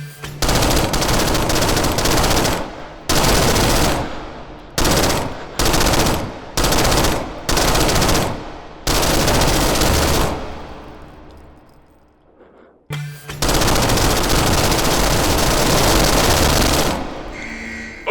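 Loud bursts of gunfire at targets in the VR shooter H3VR, rapid volleys in repeated blocks separated by short gaps, with one long pause before a final sustained stretch of shooting.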